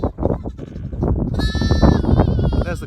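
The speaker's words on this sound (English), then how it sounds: "because the sheep are so close to the house, we can keep an eye on them really quite easily" Sheep and lambs bleat near a croft house on Bressay in spring, several sustained, wavering bleats rising over steady outdoor background noise, fairly close and loud in the second half.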